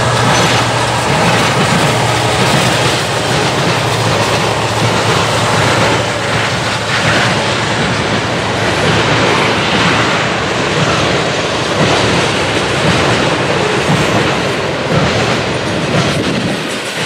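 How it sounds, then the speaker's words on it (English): An eastbound manifest freight train rolls past on the Chicago line near Berea, Ohio, a loud, close, continuous roar of wheels and rattling cars with steady clickety-clack throughout. "another eastbound makes its way through on the Chicago line, this time being a manifest train"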